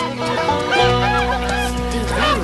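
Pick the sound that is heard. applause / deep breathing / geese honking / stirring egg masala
geese honking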